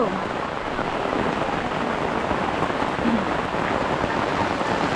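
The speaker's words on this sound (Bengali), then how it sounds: "ভীষণ বৃষ্টি।" A constant dense roar of heavy rain pouring down nearby, steady and loud throughout without any break.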